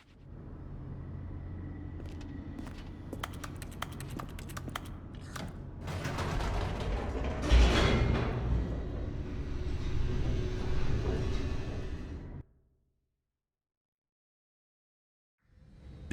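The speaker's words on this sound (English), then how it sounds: "The elevator raced downward, plummeting towards an unknown fate." An elevator in The Stanley Parable races downward: a steady mechanical rumble with creaking and ratcheting clicks builds into a louder grinding roar, then cuts to silence before a faint sound returns at the end.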